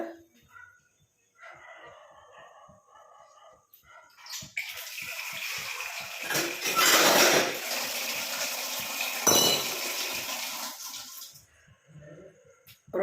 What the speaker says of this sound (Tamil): முக்கால் டம்ளர் அளவுக்கு தண்ணி சேர்த்துக்கோங்க